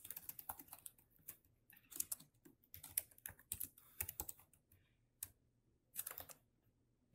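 Quiet keyboard typing in irregular bursts of clicky keystrokes, with brief pauses between runs, fairly close and no voices.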